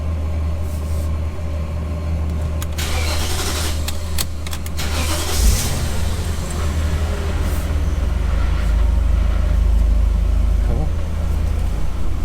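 A BMW 540i engine cranks and catches about midway, then settles into a steady, close idle that runs to the end, with some talking over it.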